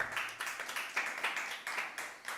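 Hands clap in a steady, fast rhythm at a Tamil Christian Bible gathering, a close, continuous patter of claps with no voices.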